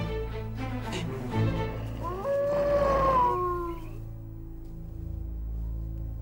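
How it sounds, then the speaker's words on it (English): Wolves howl from outside a car in a drama scene, one long rising and wavering howl standing out over a steady low rumble and background noise, then fading. "They're only wolves."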